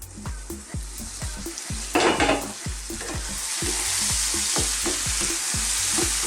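A goat curry is stirred in a pot with regular, rhythmic scraping strokes, a short louder burst of stirring midway and a steady sizzle that grows under the strokes.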